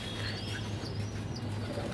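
Pigeons or doves on a rooftop, soft cooing and faint chirps as a mother bird feeds her chicks, with a steady low background hum throughout.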